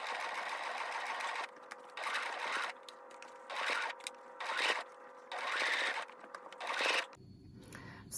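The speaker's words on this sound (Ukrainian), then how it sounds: "з лиця в шов отак прокладу строчку для і так, щоб захопити і нижню частину пояса" A domestic sewing machine stitches a skirt waistband seam in several bursts of steady whirring, a second or so each, separated by short pauses, close and alone without talk.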